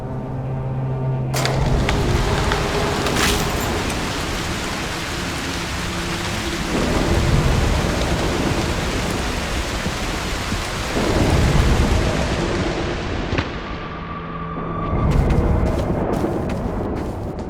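A thunderstorm from the game Broken Pieces, with heavy steady rain and repeated deep rolling thunder swelling every few seconds, loud and close, with no talk.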